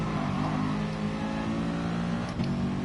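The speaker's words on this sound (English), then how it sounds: "We're gonna rev it out." Racing car engine in a Gran Turismo GR4-class video game race, a loud sustained mid-pitched drone revving hard and steadily, close and continuous, with a brief shift-like dip near the end.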